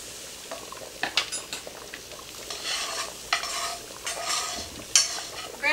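Ladle stirring chicken gumbo broth in a stovetop pan, with scattered scraping and clinking of the ladle against the pan over a soft sizzle, close and moderately loud, no talking.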